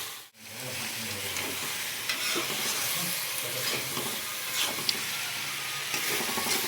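Chilli chicken masala fries in a hot pan with a splash of hot water, giving a steady, loud, close sizzle and hiss with occasional stirring scrapes throughout.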